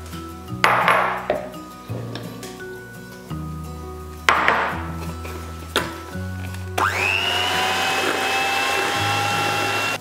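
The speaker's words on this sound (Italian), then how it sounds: "Montiamo le uova con lo zucchero a velo." Electric mixer whipping eggs with icing sugar, starting in short whirring bursts with clinks against the bowl, then running steadily with a loud, high whine for the last few seconds.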